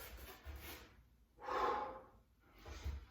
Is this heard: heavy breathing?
yes